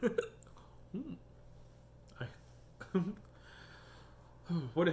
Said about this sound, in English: now I have the hiccups because I'm allergic to me lying